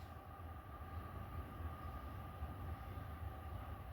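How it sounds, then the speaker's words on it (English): A container freight train rumbles steadily past, a continuous low roar of rolling cars with a faint metallic hum, heard from a little distance. "Piggyback train. Container train anyway."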